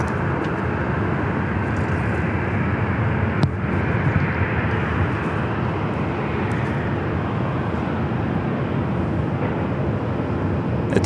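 A Southwest airliner on runway 24 Left at LAX gives off a loud, steady jet roar that holds unbroken throughout.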